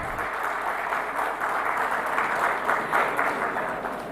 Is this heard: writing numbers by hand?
no